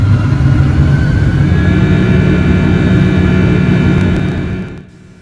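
Boeing 767-300ER jet engines at takeoff in Microsoft Flight Simulator, a loud steady roar with a low rumble and a high whine that holds for several seconds and then fades away near the end.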